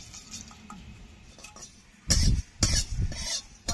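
Coriander seeds and dried red chillies dry-roast in a pan with no oil, heard as quiet rustling and stirring followed by louder scraping and clinking of the utensil against the pan.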